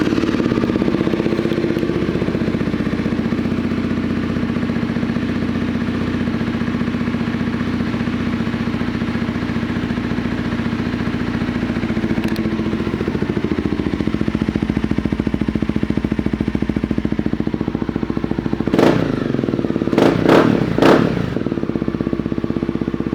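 A 2016 Honda CBR300R motorcycle engine idles steadily up close with a smooth, even hum, then a few sharp clicks or clatters near the end.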